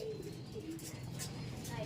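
Low pigeon-like cooing rises and falls amid a noisy background, with a few faint chirps scattered above it.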